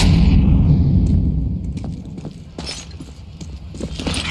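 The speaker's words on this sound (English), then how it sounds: "Throwing a grenade." A grenade blast in Counter-Strike 2, played at a BLAST Malta semifinal match: a loud low boom opens and rumbles away, followed by several sharp cracks and bursts of debris, with no talking.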